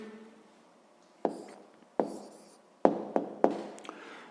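A pen on paper writes out a math answer in a quiet room, heard as a handful of sharp, separate taps and short scratchy strokes spaced unevenly.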